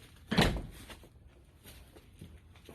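A door opens with a single loud thud near the start, followed by fainter knocks and rustling in a quiet room.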